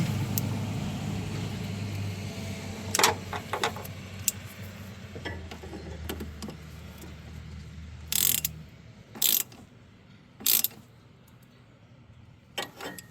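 A ratchet wrench clicking in short bursts while a car battery is reconnected on a Mazda B2300 pickup, several quick ratcheting runs separated by pauses over a low background hum.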